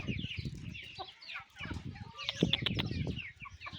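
Young chickens being raised cluck and chirp close by in a continuous chatter of overlapping calls, with a few sharper, louder notes in the middle.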